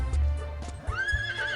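A horse neighs in the video game Legend of Sword and Fairy 3.5, a rising whinny over a low rumbling game background, loud and close.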